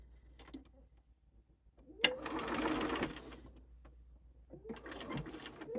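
A sewing machine runs in a short burst of about a second, stitching quilt block seams, with quiet handling sounds before and after.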